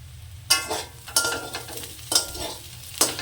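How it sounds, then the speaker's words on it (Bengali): Red amaranth greens with fish roe fry in a pan under a soft, steady sizzle, with four sharp spatula scrapes at roughly regular intervals, close by. "আমার লাল শাকটা ভাজা হয়ে গেছে"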